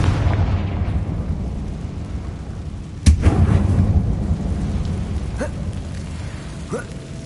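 A Confringo spell explodes in Hogwarts Legacy inside an abandoned mine tomb: one sharp, loud blast lands over a steady low rumble, leaving a brief rough tail and a few small pops afterward.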